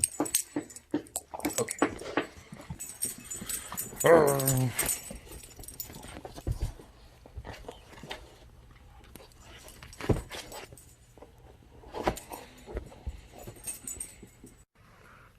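A puppy whimpers in a short, high, wavering run near the middle, with light scuffles and jangling keys around it and a brief spoken word.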